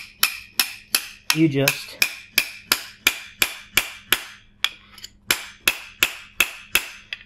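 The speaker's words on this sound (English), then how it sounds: "You get your chisel in the tubing, and then you need some kind of hammer." A hammer strikes a chisel driven into 1/4-inch copper tubing for swaging, landing sharp metallic blows in a steady rhythm of roughly two per second, close and loud, with a brief pause and a few spoken words partway through.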